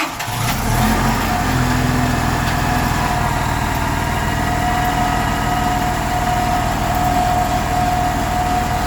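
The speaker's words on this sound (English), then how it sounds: "here we are, firing up bus 40" A CNG Blue Bird All American rear-engine school bus cranks and fires up, then settles into a loud, steady idle with a constant whine overhead, close and uninterrupted.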